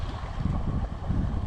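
Rain-swollen creek on the Four Mile branch in a park, steady broadband rushing flow with some wind buffeting the microphone, continuous and fairly loud with no speech.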